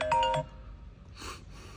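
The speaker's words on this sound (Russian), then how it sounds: "бывшая звонит, что хочет." A phone chimes with an incoming call: a short bright ring burst at the start, then a quieter second tone a moment later, close and clear with no talking.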